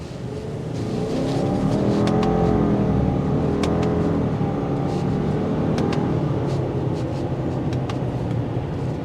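Heard from inside the cabin, a 2024 Subaru Outback Wilderness accelerates on a test drive, its engine note climbing in a steady drone over road noise, with faint clicks and no speech.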